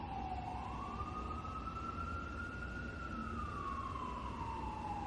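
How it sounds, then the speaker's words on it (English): An emergency vehicle siren wails steadily outside, rising and slowly falling in pitch over a constant rumble of road noise, loud and continuous with no talking. "These sirens are driving me crazy."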